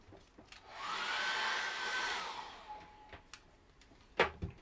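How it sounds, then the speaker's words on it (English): A handheld hair dryer blows on wet acrylic paint for about two seconds, a soft rising whoosh with a thin whine, then stops, followed by faint scattered knocks and clicks nearby. "I'm going to dry that with a hairdryer."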